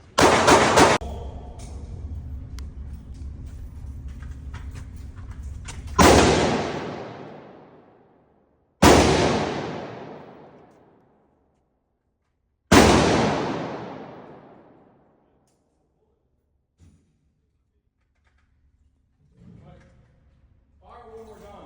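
Three loud gunshots at Hoover Tactical Range, fired by a father, each sharp crack with a long echoing decay, spaced a few seconds apart, following a stretch of steady broadband noise and talk; quiet follows with faint sounds.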